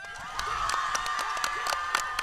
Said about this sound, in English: Let's cheer her on.